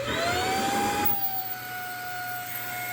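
A shop vacuum hooked up for brake bleeding on a Toyota MR2 Spyder runs with a steady loud whine and airy rush, its tone rising slightly before settling into a constant drone.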